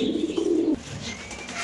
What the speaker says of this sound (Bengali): একটা ব্লু বার মুন্ডিয়ান নর কবুতর